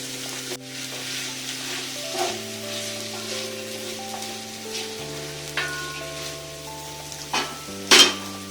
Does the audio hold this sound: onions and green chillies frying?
yes